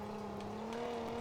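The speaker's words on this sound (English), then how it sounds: "That is straight up engine noise. There is no exhaust on this." Loud, steady engine drone from a derby-spec Soleade Wendover with no exhaust in BeamNG.drive, a continuous buzzing hum holding a fairly even pitch throughout.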